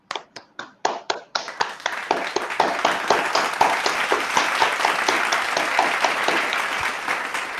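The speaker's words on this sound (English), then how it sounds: "Let's unmute our mics and give a big round of applause for Toastmaster Subrat." Applause from an online meeting audience with unmuted mics: scattered separate claps at first, quickly building into a dense, steady round of clapping that carries on without voices.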